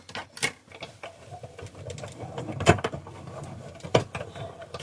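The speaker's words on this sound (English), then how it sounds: "we'll just quickly run that through the die cut machine" A hand-cranked die cut machine for papercraft runs briefly nearby, giving a soft grinding mechanical whir with a few sharp clicks and knocks.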